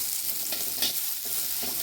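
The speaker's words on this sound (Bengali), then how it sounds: "দিয়ে দিলাম পেঁয়াজ কুচি। এটা হালকা ভাজা হতে থাকুক।" Chopped onion frying with dried chili and nigella seeds gives a soft, close hiss, with a few brief stirring scrapes and no voices.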